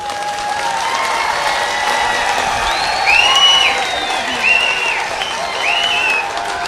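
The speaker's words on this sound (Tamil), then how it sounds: "அது தேவலைன்னு சொன்னால் தயவு செஞ்சு கைத்தட்டி வரவேற்பு" Crowd at a Tamil event applauds warmly to welcome the name Kaveri Kappalar, a steady wash of clapping with a few cheers and whistles rising over it.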